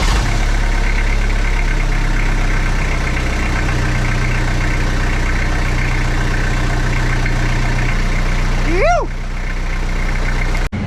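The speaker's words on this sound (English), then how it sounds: "I shouldn't be nervous to start it because we did hear it kick over and idle without the radiator in." A truck engine, fitted with a hydraulic-assist steering conversion on 40-inch Toyo tyres, idles steadily and loudly after start-up, with a brief rising whine near the end.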